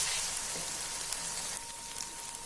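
Garlic ginger paste frying in hot oil, a close, steady crackling sizzle that continues for a couple of seconds with no talking.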